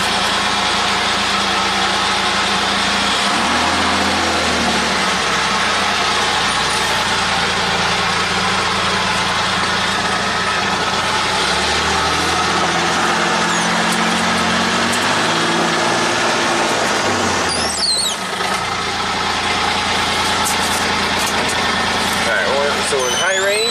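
Kawasaki side-by-side UTV engine starting and running, a loud continuous drone with revs rising and falling, heard from close up inside the vehicle, while a person talks over it.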